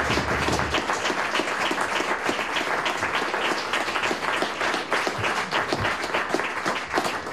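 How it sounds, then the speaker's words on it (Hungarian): A large audience at a Transylvanian Hungarian song gala claps in a thick, loud, continuous wave of applause that holds steady from start to finish. "erre szeretnék egy nagy tapsot hallani"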